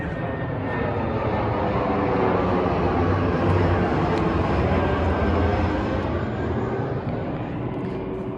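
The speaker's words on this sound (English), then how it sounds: "we're under an active flight path, so we will be seeing some airplanes going by" Broadband roar of a fixed-wing airplane passing overhead, swelling to a peak midway and easing off, loud and continuous with no talk.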